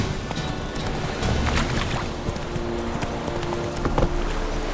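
Roach, a horse in The Witcher 3, clip-clops along in a steady trot of close hoofbeats over a dense bed of background game ambience.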